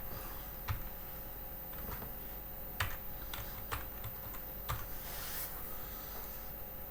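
A date being keyed in on a computer keyboard: soft, quiet keystrokes and a few sharper clicks tapping out at an irregular pace against a faint steady background hum, with nobody speaking.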